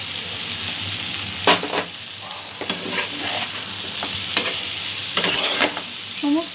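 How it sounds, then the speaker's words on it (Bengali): A jackfruit curry with fried potatoes is sautéed in a pan: a continuous sizzle with intermittent scraping stirs of the spatula against the metal, close by and with no talking. "এখানে যে আলুটা সেদ্ধ করে রেখেছিলাম, ভেজে রেখেছিলাম, সেটা দিয়ে দেবো।"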